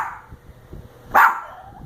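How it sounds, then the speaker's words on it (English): A dog lets out a single sharp bark at a sleeping woman who is snoring lightly, loud and close against a quiet room. "so the dog is barking"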